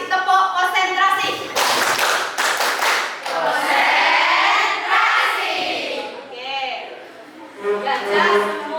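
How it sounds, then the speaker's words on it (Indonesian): Children clap a concentration clapping pattern in a classroom, quick rhythmic claps mixed with their chanting voices, loud and close, with the rhythm loosening toward the end. "Konsentrasi, tepuk konsentrasi."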